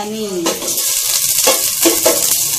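Oil sizzling in a thin pot while cooking chicken sopas, a steady broadband hiss with light stirring and clinks of a pan; a voice is briefly heard at the start.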